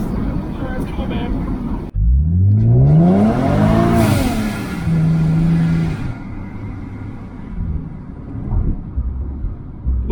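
A supercharged Cadillac CTS launches hard after a sharp thump, its engine note climbing steeply through the revs into a loud, rising roar, then easing into a steadier drone as it fades, with excited voices talking over it.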